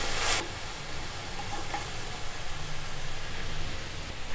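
A broad bean and tomato curry sizzles steadily in a pan as it is stirred, a soft continuous crackle and hiss close by with no talking.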